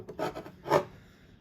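Body screws being tightened on a Vosteed Nightshade folding knife give a few short, close rasping turns, two quick twists and then a louder one. No voices are heard.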